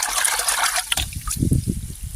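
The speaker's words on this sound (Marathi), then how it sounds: "कल्चर डायरेक्ट चरचर आवाज येतोय आपल्याला" Sticky culture liquid fizzing and trickling up close, a bright crackling hiss that gives way to low bubbling gurgles from below.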